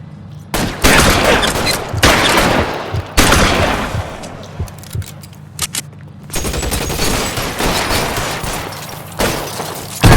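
Sustained bursts of gunfire from an L.A. Noire shootout, loud and close, with repeated volleys and rapid automatic fire separated by brief gaps across the whole stretch.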